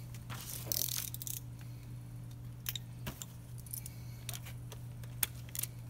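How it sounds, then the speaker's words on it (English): Metallic clicks and jangles from a torque wrench being handled while tightening roof rack bolts, several sharp ticks scattered over a steady low hum, fairly close. "Okay, got my torque wrench on."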